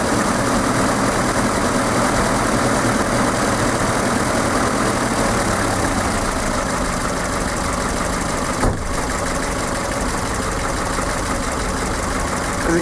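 Idling Volvo 240 engine with the choke on, a steady continuous low rumble and mechanical hum throughout, fairly loud and close, with no talking.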